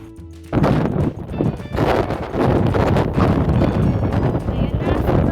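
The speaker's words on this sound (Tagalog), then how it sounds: "sobrang hangin dito sa taas." Strong gusts of wind on a mountain top, Kowloon Peak in Hong Kong, roar and buffet steadily across the microphone, a loud, continuous rumbling whoosh that fills the whole clip.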